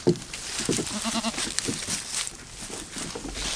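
A young goat kid on a farm bleats in a few short wavering calls close by, with rustling and faint background noise between them.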